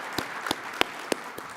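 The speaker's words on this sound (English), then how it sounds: "So a big applause really to the FEI team here this evening." An evening awards gala audience gives scattered, sparse applause, a handful of distinct claps spaced out over a moment, heard at a moderate distance in a large room.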